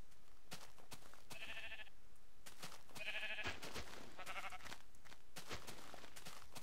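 Sheep in the video game Minecraft bleat in three short, distinct calls, evenly spaced against a busy background of game sounds.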